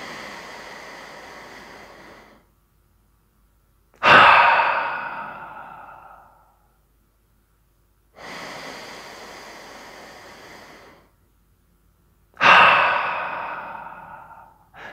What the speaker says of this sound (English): Some of you might respond better to a better, more aggressive exhalation. So when you breathe out, it's more powerful and aggressive.